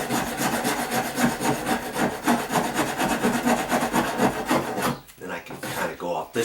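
A rasp files wood off the bottom of a door in quick rhythmic strokes, loud and close, before slowing into a few separate scrapes near the end.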